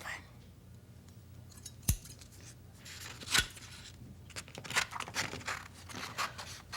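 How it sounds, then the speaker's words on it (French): Scissors cutting paper by hand, with a few sharp snips and softer slicing strokes in an irregular rhythm, close and fairly quiet in a calm indoor setting. "Et maintenant, on découpe."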